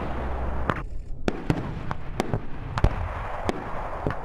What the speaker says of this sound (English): They're going to do some live call for fires with a gunship.